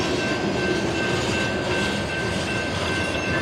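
BNSF empty coal train with fueled locomotives starting to move, a steady, dense rumble of rail cars and engines with a faint high whine running throughout.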